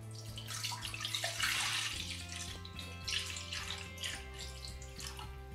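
Coconut milk poured into a heavy-bottomed pan for Sri Lankan thothal rice halwa, a steady close liquid stream with splashing that shifts in pitch as the pan fills.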